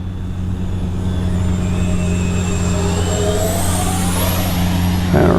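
Twin 40mm electric ducted fans of a radio-controlled F-15 jet whine at full power, a steady high-pitched rising tone over a low hum, swelling as the model comes back around.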